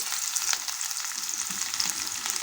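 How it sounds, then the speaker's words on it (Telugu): Carrot, beans and capsicum pieces frying with onions in a pan, a steady close hiss and crackle of sizzling vegetables with small popping bursts and no talking. "ఇప్పుడైతే నేను క్యారెట్ వేస్తున్నాను అలాగే బీన్స్ క్యాప్సికమ్ ముక్కలు"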